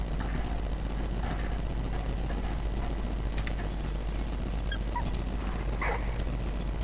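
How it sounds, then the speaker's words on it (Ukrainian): A dog in Valiant Hearts: The Great War gives several soft whimpers and short yips, faint and spaced out over a steady background hum, with no talk. "Песик же тут, як тут."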